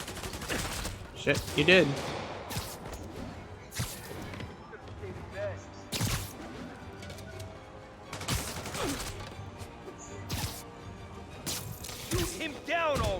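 Gunfire rings out in Spider-Man Remastered as bursts of rapid shots and sharp single cracks scatter irregularly across the scene, loud and close, mixed with game effects while voices shout and talk over the action.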